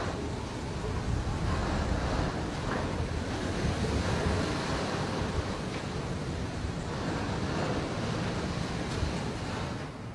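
Large ocean swells pounding against a ship's steel hull in heavy seas, heard as a continuous loud roar of surf and wind with no distinct separate impacts.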